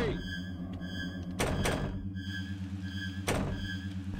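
Door sounds in the horror video game Ao Oni, with thuds of a door opening heard over a low looping game soundtrack, no talking.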